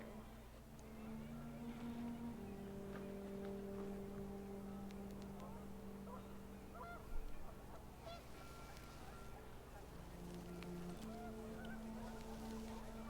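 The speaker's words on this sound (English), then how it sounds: "panicked geese appeared" Panicked geese honk in the video game What Remains of Edith Finch, a faint, continuous flurry of overlapping honks and cackles over a low background drone, with a brief louder burst midway.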